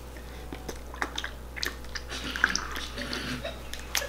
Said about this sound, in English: now I'm squeezing the water in.